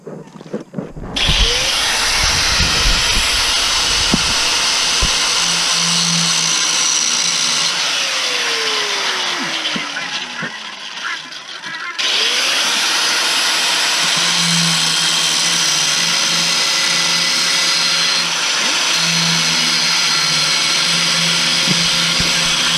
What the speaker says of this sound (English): I'm going to use my small cutter first, my small angle grinder first